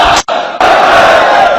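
A large crowd at a religious gathering shouts a loud, sustained chant in unison, cutting off briefly, then swelling again into a roaring collective cry that holds steady to the end.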